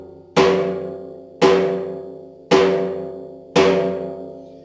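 Four loud asma davul strokes, each made by turning the wrist and finger, land at an even, unhurried pace. Each hit is sharp and ringing and decays slowly before the next, heard up close with no voices.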